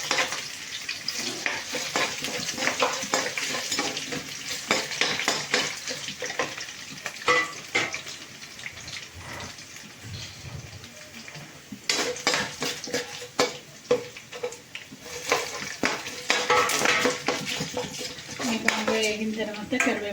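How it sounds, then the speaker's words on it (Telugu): Garlic and dried red chillies sizzle steadily in a pan as a utensil scrapes and clinks against the metal while stirring, close and continuous, with little or no talk. "వెల్లుల్లిపాయలు, ఎండుమిర్చి బాగా వేసుకుని ఇలా కలుపుకోవాలి"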